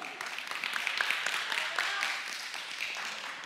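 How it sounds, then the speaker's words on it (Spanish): A church congregation applauds during a sermon, a dense, steady wash of clapping hands that fills the room for several seconds without a break. "Denle un aplauso al Señor."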